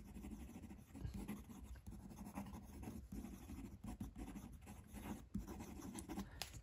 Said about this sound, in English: The nib writes well. It's a Yovo. It's a number 5, so it's a slightly smaller nib, but it writes well.